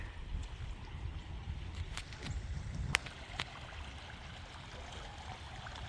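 Heavy rainwater flowing and trickling outdoors after days of rainstorms, a soft continuous gurgling wash with a few faint knocks and clicks, fairly quiet and alone.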